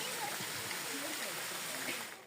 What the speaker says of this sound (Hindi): हमें आज मिली है ये आबशार, मिनी आबशार कह रहे हैं